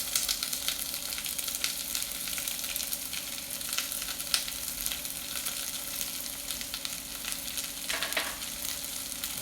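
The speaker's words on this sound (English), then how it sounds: "we're gonna cook our vegetables for about 10 to 15 minutes" Vegetables fry in a pot over medium heat with a bay leaf, a steady close sizzle with faint scraping stirs throughout and one brief clatter near the end, no voices.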